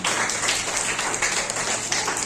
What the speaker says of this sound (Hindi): इनके लिए जोरदार ताली बजाओ कर